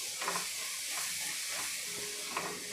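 Grated coconut, cashews and almonds roast in a pan, a steady dry hiss and sizzle with soft scraping stirs recurring every second or so, close and moderately quiet.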